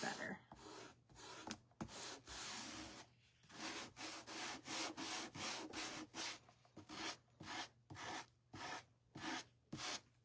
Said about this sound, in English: we're gonna go in with our little gator sanding block